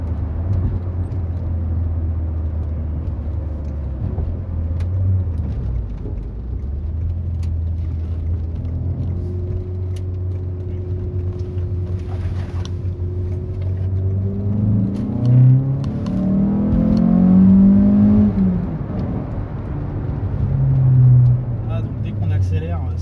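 A Citroën Xsara VTS sports car engine drones steadily, then revs and accelerates with rising pitch toward the end, loud and close, with the deep rumble continuing throughout.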